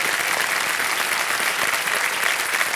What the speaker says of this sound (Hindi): और भाई साहब तालियां बजाएं उनके लिए